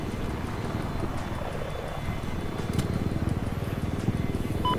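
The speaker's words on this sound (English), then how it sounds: "there's an attack chopper" Attack helicopter in Battlefield 4 flying with a steady rotor thump and engine drone, a close, continuous pulsing throb that grows slightly stronger toward the end.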